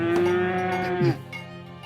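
A farm cow moos in Farthest Frontier, one sustained low bellow lasting about a second that rises and then drops off, heard clearly over a soft game ambience.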